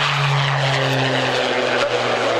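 A Jetstream 41 turboprop airliner at the 1998 Woodford Airshow drones past in a steady, loud propeller hum with a sustained low tone that shifts slightly in pitch, continuous throughout with no talk.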